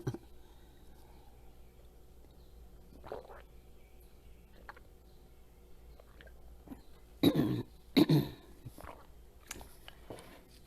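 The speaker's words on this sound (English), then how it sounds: "see if I can clear my throat" A quiet room with faint sounds, then a couple of sharp, close throat-clearing coughs in quick succession near the end.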